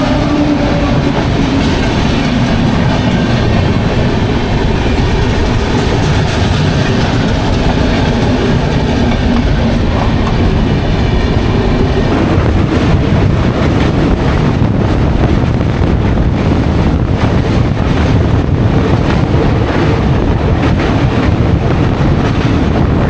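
The Howrah–Puri Superfast Express (12837) running on the tracks near Cuttack, heard loud and close from on board: a constant heavy rumble of wheels and carriages with rhythmic rail clatter and buffeting wind noise throughout.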